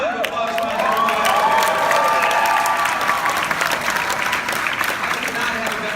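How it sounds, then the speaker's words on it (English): An audience at a 2018 political campaign event at CSUF gives loud, continuous applause with scattered cheers and whoops across the whole stretch. "Give a round of applause, my dear wife."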